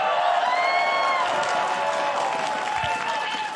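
A live esports crowd at a League of Legends LCS Spring playoff match cheers and applauds continuously, loud and sustained, with whoops rising above the steady clapping.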